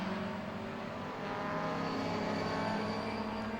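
A classic pre-1966 touring car races past at Brands Hatch circuit, its engine a steady, moderately loud drone that swells slightly as it goes by.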